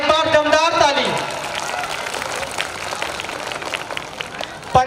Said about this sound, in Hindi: एक बार दमदार ताली।